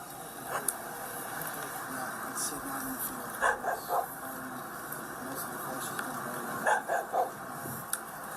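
A dog gives a few short barks and yips at a moderate distance, spaced out against steady outdoor background noise.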